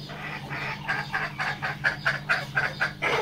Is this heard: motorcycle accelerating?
no